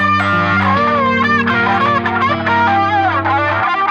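Heavily gain-boosted electric guitar rhythm tone run through an effects unit, with distorted chords, a sustained low drone and chorus-like shimmer, loud and continuous throughout.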